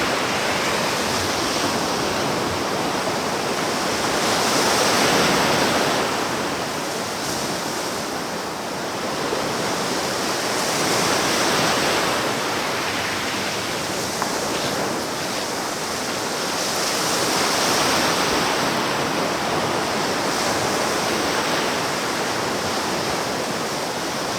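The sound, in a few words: ocean waves at the water's edge on a beach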